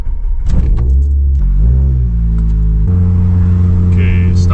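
A Nissan Sentra autocross car with brake bias set fully to the rear, its engine rumbling loud and close as it slows, the rear wheels locking up under braking, with a steady low drone throughout.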